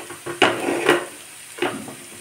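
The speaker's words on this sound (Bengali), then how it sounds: "গাজরটা ভালো করে নেড়ে নেব।" Chopped carrot is stirred in a pan for pasta, making a few close scraping, clattering strokes over a faint sizzle, with quiet gaps between them.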